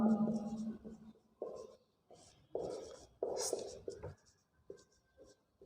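Chalk or marker writing on a board during a Rajasthan geography lesson, short scratchy strokes in irregular bursts heard close, with someone speaking over them.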